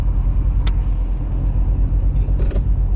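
Corvette C7 Z06 with an 8-speed automatic driving along, a steady low engine and road rumble throughout with a couple of brief higher-pitched clicks and noises inside the cabin.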